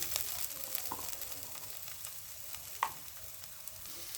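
Potatoes and spices with turmeric sizzle in a pan as they are sautéed for an egg and spinach dish, a steady soft frying hiss with occasional stirring clicks and scrapes, close and fairly quiet.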